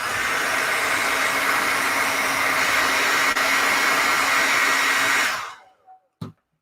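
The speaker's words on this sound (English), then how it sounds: "you take the hair dryer, and you put it on top like this." A hair dryer blows steadily and loudly on clay for a portrait sculpture, a continuous close hiss that cuts off abruptly, followed by a couple of faint clicks.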